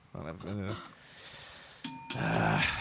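A bell rings in a talk-show studio, a bright sustained tone that sounds suddenly after a man's speech and rings on, with voices and background noise underneath.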